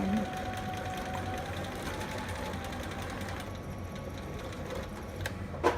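Sewing machine stitching along a seam while sewing a romper, a steady close mechanical whirr and rapid needle rattle running continuously, easing slightly near the end.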